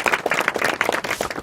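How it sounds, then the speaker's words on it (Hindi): Students at an inter-college school event clap together in loud, close, rapid applause that carries on steadily throughout. "चलो ताली बजाओ।"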